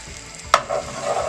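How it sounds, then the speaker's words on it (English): A soft, steady sizzle of butter frying in a pan for chicken Kiev, with a brief clink of a utensil partway through. "Right, so that's the butter. You can hear it sizzling."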